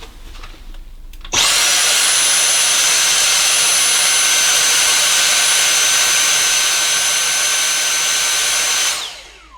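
Dyson V6 or V7 Trigger cordless handheld vacuum cleaner switched on at maximum suction, a loud steady high-pitched whine and rushing airflow starting abruptly after silence, running unbroken, then winding down at the end.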